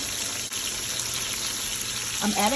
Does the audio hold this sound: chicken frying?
yes